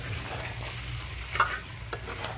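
A spatula stirs coconut-cashew paste with fried onion in a pan for mutton shahi korma, a soft continuous sizzle and muffled scraping with one or two brief knocks, close and steady, no voices.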